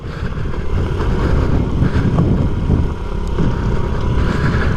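A 1993 Honda Z50R small motorcycle rides along a dirt ATV trail, its engine a steady low drone with continuous wind buffeting, close and loud throughout.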